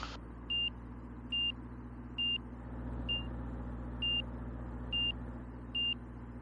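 A steady, slow electronic angle-of-attack beep in a small airplane cockpit repeats about seven times at even intervals over a constant low engine drone, with no talking.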